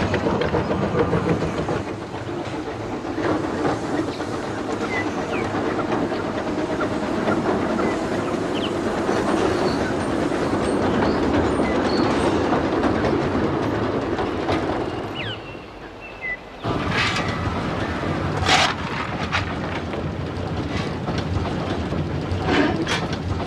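A vintage Coffee Pot steam locomotive runs along rails on a heritage line, its steady rumble and clickety-clack loud and near for a long stretch, then a brief hiss and softer rattling as it passes.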